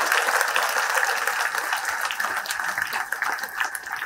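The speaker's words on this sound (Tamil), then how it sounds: "பலத்த கைத்தட்டலோடு நம்ம விடை கொடுக்கலாம் ஐயாவுக்கு." Audience applause at a Tamil public speech event, a dense steady roar of clapping that fills the room loudly and evenly throughout, with no speech over it.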